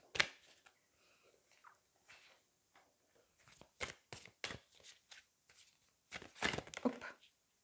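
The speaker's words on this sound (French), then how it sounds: "Allez, on va aller prendre une carte du lot Poutine." A deck of tarot or oracle cards is handled and shuffled, with soft riffling and sharp card slaps, near and intermittent, bursts clustering toward the end as cards are drawn and some spill from the pack.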